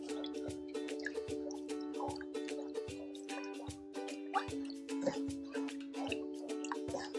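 A yogurt mixture for mishti doi is stirred while more is added, giving repeated faint wet drips and soft plops at a regular pace against a steady background hum.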